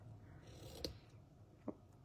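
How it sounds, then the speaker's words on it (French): Fabric scissors cutting through a ribbon during card making, heard as two crisp, close snips about a second apart in a quiet room. "avec des bons ciseaux, pour couper ce ruban-là"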